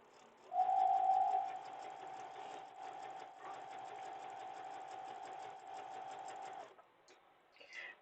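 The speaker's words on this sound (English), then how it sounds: "So now I'm sewing up the bottom corner." A sewing machine stitches up the bottom corner of a piece of fabric, running as a steady mechanical whir for about six seconds, loudest at the start, then stopping, with a faint voice afterward.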